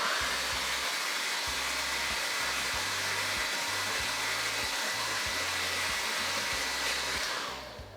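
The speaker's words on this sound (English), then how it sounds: "So I'm just going to heat this metal blade with my air gun like this." Hot air gun blowing steadily while heating a metal blade for shaping chocolate Easter eggs, a loud continuous whooshing roar with a low pulsing hum underneath that tapers off at the end.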